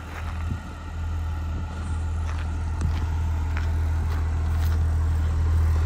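A 2006 Blue Bird Vision school bus engine idles with a steady low exhaust drone, close and continuous, with faint clicks and rattles over it.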